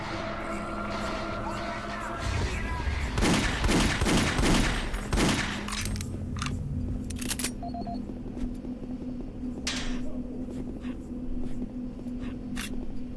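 Enemy gunfire in Doom 3 rattles out as a dense volley of rapid sharp shots, followed by scattered single cracks and mechanical clicks over a steady low hum.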